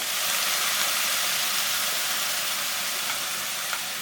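Fish cooking broth poured into a hot pan gives a steady, loud hissing sizzle that holds evenly for several seconds, with no voices.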